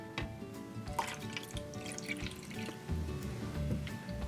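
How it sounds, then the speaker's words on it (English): Water is poured and dripped into a container of clear glue while making slime, a trickling, splashing flow with small drips, fairly close and with no talking. "now we just have to add water"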